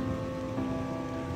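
Steady rain falls over a city, a continuous hiss of drops hitting wet surfaces at close range, with no voices.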